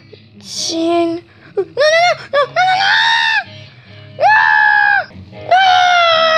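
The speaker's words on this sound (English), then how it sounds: "Sounds like Foxy screaming" Animatronic Foxy screaming in a Five Nights at Freddy's show, a series of loud, harsh, wavering shrieks in bursts separated by short gaps, close and dominant.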